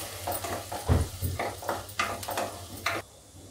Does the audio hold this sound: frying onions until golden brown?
yes